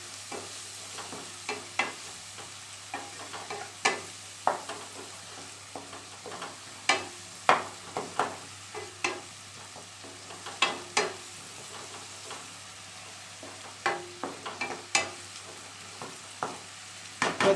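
A spoon stirs curdled yogurt into katla fish curry in hot oil, giving repeated scraping, clinking strokes over a soft, steady sizzle, close up and with no talking.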